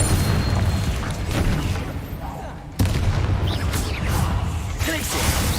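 Fiery Confringo explosion spells cast repeatedly in the Hogwarts Legacy video game: loud, dense, booming blasts that keep the scene continuously noisy, with one sharp, heavy impact near the middle.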